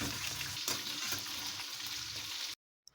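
Food sizzles and crackles loudly in a hot pan for a couple of seconds, then cuts to near silence with one faint click.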